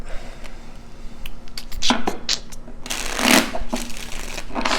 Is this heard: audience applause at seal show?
no